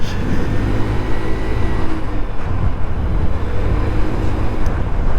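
A scooter rolls through town neighborhoods under a sunny sky, its steady motor drone and road rumble mixing with broad traffic noise and wind, loud and continuous throughout.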